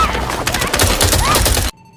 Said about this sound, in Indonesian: tiba mendapat serangan dari pasukan Lyot yang membuat Donald terkena tembakan